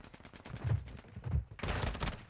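Rapid automatic rifle fire from a TAQ rifle in the Call of Duty video game: fast repeated shots in bursts, fairly quiet and distant, with a denser, louder stretch of fire near the end.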